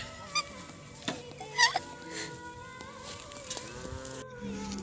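Cattle moo out in an open field, several low calls spread across the clip at moderate distance, mixed with scattered honks from geese or other fowl over a quiet outdoor background.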